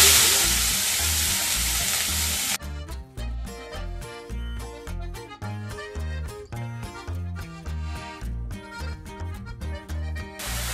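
Grated carrots fry in ghee for gajar halwa, a loud, dense hiss lasting about two and a half seconds before music takes over and covers the rest.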